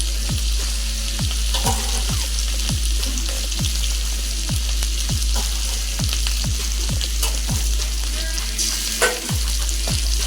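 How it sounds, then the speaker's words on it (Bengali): A spatula stirs and scrapes a frying mix with fish-roe paste and banana-flower paste in a pan, with a constant sizzle under a steady rhythm of regular scraping strokes, close and alone. "এখন এইগুলোকে ভালো করে মিক্স করব।"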